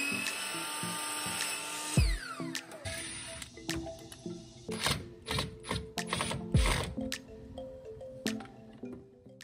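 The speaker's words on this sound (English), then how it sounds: "I made sure to drill a pilot hole before securing it down with my screw." A power drill bores a pilot hole into a piece of secondhand furniture being made over, a steady whine up front followed by a run of sharp, irregular mechanical clatters and knocks close by, with no talking.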